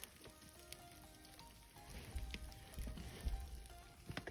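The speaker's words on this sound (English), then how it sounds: "the sound of it absorbing all the water" Quiet crackling and fizzing, like tiny bubbles popping as Reptichip reptile substrate in a bag absorbs water, with soft irregular pops throughout.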